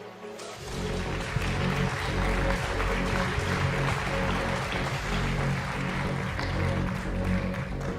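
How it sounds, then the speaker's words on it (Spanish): An audience at the Congreso Futuro conference applauds to welcome a speaker before a talk on food biotechnology, a dense, sustained roar of clapping that starts abruptly and stays loud and even throughout. "Un fuerte aplauso para escuchar las historias de Daniel Norero."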